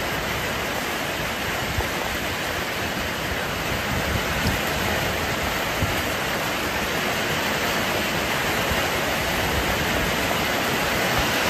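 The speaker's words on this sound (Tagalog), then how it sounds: "Malakas talaga ang ulan." Heavy rain pours down in a continuous, loud, dense roar with no breaks, steady from start to end and with no voices over it.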